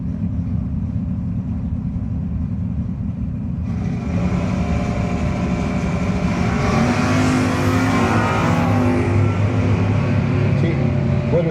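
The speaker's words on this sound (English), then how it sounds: "Bendekovitz up against Vinny Cusimano. Down 618 the Oldsmobile" Drag race cars, one an Oldsmobile, roar down the strip at a No-Box 660 shootout, a loud continuous engine wail that swells as they pass, heard from trackside with crowd and announcer sounds faintly underneath.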